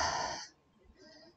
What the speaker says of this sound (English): Obviously heavy breathing.